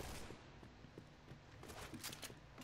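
Gunfire in the shooter game Point Blank crackles as a dense, rapid burst of overlapping shots, with a harsh, noisy texture throughout the short stretch and no voices over it.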